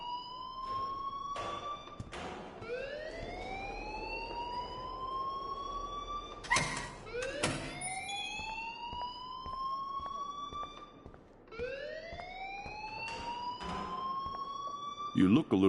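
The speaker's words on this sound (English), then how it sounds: "please turn off that alarm since that's your job" A wailing, siren-like alarm rings repeatedly in the Life is Strange video game, its tone sweeping upward in regular cycles at steady volume, with short bursts of clatter between some cycles.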